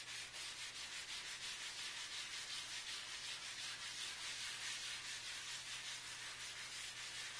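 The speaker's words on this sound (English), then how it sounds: "I just smear around the Conte. I rub it into the surface." Conte crayon rubbed and smeared into a drawing surface, a steady dry scratchy rubbing that continues without pause for several seconds, close and fairly quiet, with no talking.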